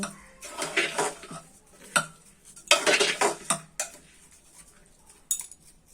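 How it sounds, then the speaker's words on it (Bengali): A metal spoon scrapes and clanks against a pot while pulao rice is mixed into cooked mutton for a mutton biryani, heard as loud, close bursts of scraping with short clinks between them and no talking. "মাটনের সঙ্গে পোলাওয়ের চালটা ভালোভাবে মিশিয়ে নিব।"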